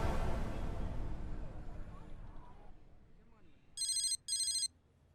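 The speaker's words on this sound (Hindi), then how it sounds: "अली जरा फोन उठाना।" Two short bursts of an electronic telephone ring, close and clear, following a stretch of fading background noise and murmur.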